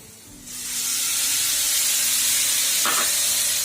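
Soy sauce hitting a hot pan of spring roll filling, bursting into a loud, steady sizzle and hiss after a quiet start, with a brief clatter near the end.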